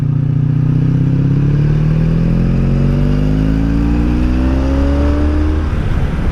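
A Honda V65 Sabre motorcycle engine drones loud and close while riding, its pitch climbing steadily under acceleration, with wind noise throughout.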